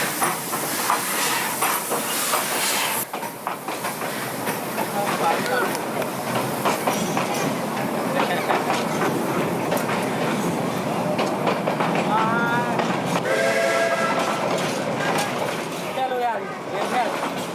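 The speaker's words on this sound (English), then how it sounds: "a stopping train clanks off towards Moulmein" A stopping train in Burma rumbles and clatters steadily away from the station toward Moulmein, with hissing and metallic clanks, fairly close, while voices murmur faintly underneath.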